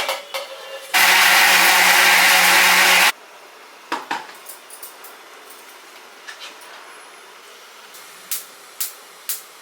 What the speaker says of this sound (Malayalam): ഇനി നമുക്ക് ഇത് മിക്സിയിൽ ഒന്ന് അടിച്ചെടുക്കാം കേട്ടോ. പാലോട് കൂടി തന്നെ അടിക്കാം.